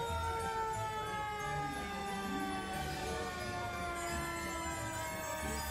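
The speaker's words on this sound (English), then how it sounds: "I know the old fire truck went through, and engine number 1 had went through" A fire truck siren sounds at a Christmas parade, a loud, steady, tonal wail that holds through the whole stretch over a busy street backdrop.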